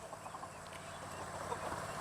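Hens in a backyard garden coop, standing on a wooden grow box, cluck and murmur in a low, steady chorus at moderate distance, with faint outdoor ambience throughout.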